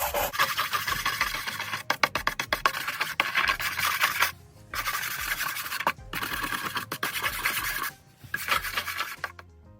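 Charred blackness is scraped off burnt wood during shou sugi ban, rough rasping strokes up close in bursts of a couple of seconds, broken by short pauses between passes.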